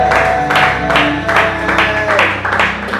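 A church congregation claps and cheers in acclaim of Jesus, with rhythmic loud applause and a voice heard over the crowd.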